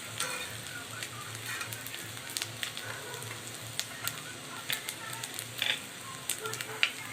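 Potato chops and pea fritters made with gram flour frying in hot oil, giving a steady close sizzle with scattered crackles and pops and no talking.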